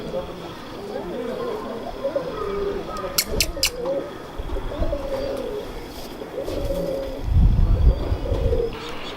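Salara pigeons at a loft in Lahore coo in soft, repeated low phrases under ongoing conversation, with a few brief sharper noises midway and a louder rumble near the end.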